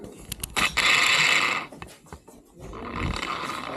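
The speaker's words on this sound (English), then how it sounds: "so here we get a tape measure first. We measure the center of this box" A tape measure being pulled out and snapping back at a conduit job site, heard as close ratcheting, rattling clicks and a sliding metal whir with brief mechanical clatter.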